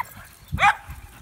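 An excited dog gives a single short, sharp yip-bark, close and fairly loud, standing out against quiet low rumbling background.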